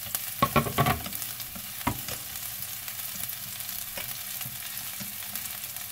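Shallot sizzling as it hits hot oil in a pan, a few sharp crackles and stirring clatters early, then a soft steady frying hiss that settles down, quiet and close with no talk.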